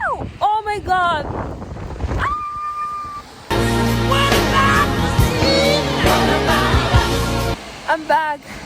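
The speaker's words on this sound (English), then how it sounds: "there's a lot of wind" Strong wind buffets an outdoor microphone on a rainy campus day, a loud, steady roaring rumble lasting several seconds, with a voice speaking before and after the gust.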